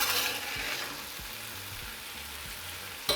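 Nopales and onion cook in a pan with salt, giving a soft, steady frying sizzle close by, with faint utensil clicks and no talking.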